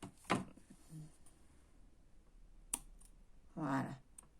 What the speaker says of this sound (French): je viens prendre ma paire de ciseaux et je viens découper un petit peu